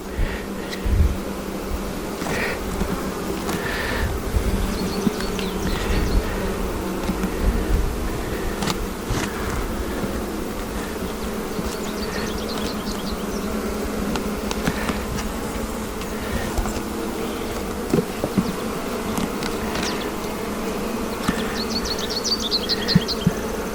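Honey bees buzz steadily around an open hive during a brood-nest inspection, a dense continuous drone close to the microphone with occasional louder passes of individual bees and no speech.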